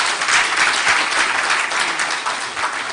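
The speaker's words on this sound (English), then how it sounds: "Can we give a round of applause, please?" Steady applause from a congress audience after a minister's representative is thanked, dense and sustained for the full stretch with no talk over it.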